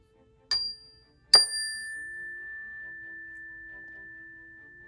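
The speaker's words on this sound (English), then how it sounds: "This is my meditation chime." A meditation chime struck twice in a quiet room, a light tap and then a firmer strike whose clear bright tone rings on steadily for several seconds.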